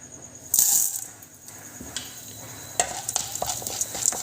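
Chana dal and urad dal hitting hot oil for a Tamil nayuruvi keerai poriyal, a bright sizzle bursting in at once, then steady frying crackle with a few sharp scrapes and clinks of stirring.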